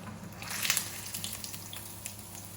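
A dry-aged steak hits a hot oiled pan and starts to sear: a close, steady hiss and sizzle that swells briefly at first, with small crackles scattered through, and no talk.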